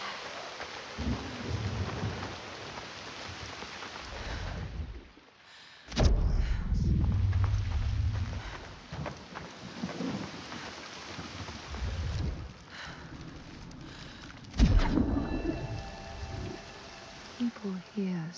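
A constant storm in the video game Senua's Saga: Hellblade II, with rain hissing and thunder booming and rolling in the distance, one heavy crash near the middle, while a voice speaks at times over it.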